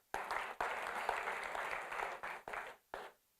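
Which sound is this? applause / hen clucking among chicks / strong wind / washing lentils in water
applause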